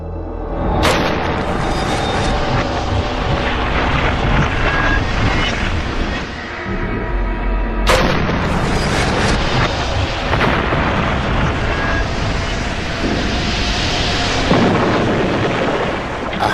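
A pressurised model airliner fuselage, a de Havilland Comet, is deliberately ruptured in a pressure chamber. Two sudden loud bursts roar through a dense, sustained rush of escaping air, with no talking.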